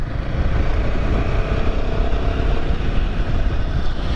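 A Royal Enfield Himalayan 450 motorcycle accelerating on the road, its engine a steady, close, revvy drone mixed with wind rush, no pauses or talk.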